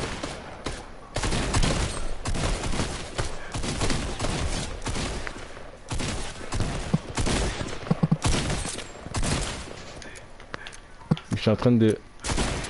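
Rapid bursts of gunfire in Fortnite from a bot shooting at a wall, sharp clustered cracks coming in irregular volleys with short gaps, loud and near, while players talk over them.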